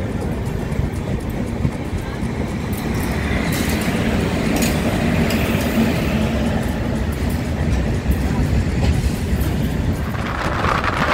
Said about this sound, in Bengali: ট্রেনটি দেখুন এঁকে বেঁকে কত সুন্দরভাবে এগিয়ে চলছে 120 কিলোমিটার বেগে